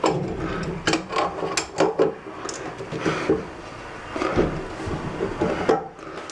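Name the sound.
tightening a bidet hose fitting with a wrench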